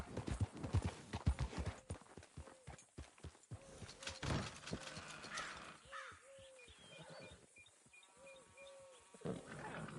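Horse hooves clip-clop in Red Dead Redemption 2, a quick run of close, rhythmic hoof strikes that slows and fades, while someone speaks and a crow caws over the game's ambient sounds.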